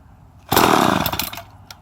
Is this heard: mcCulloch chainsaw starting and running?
yes